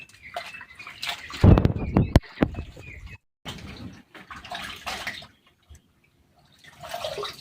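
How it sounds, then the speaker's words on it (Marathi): Water splashing and sloshing as potato slices for wafers are rinsed by hand, with brief drips and pauses between bursts of washing. "आता तीन पाण्यामध्ये पूर्ण वेपर मी धुवून घेणार आहे"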